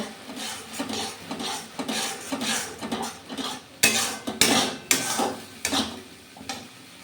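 A spatula scraping and stirring a thick spice and cashew paste in a pan, rhythmic rasping strokes roughly every half second, growing louder and more clattery toward the end, close up with no speech.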